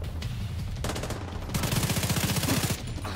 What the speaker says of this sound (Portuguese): Dois caras me atirando.